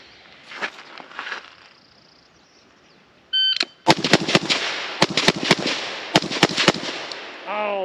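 Sig Sauer 716i .308 rifle fired outdoors, a string of about ten sharp, loud gunshots in quick irregular succession after a brief mechanical sound, with faint talk early on.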